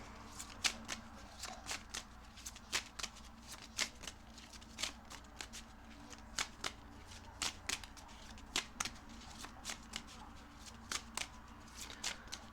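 Tarot cards are shuffled before a reading in quick, close riffling bursts, each a sharp papery snap, repeating irregularly over a quiet room, with no one speaking.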